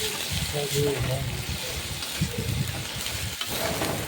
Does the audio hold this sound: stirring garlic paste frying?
yes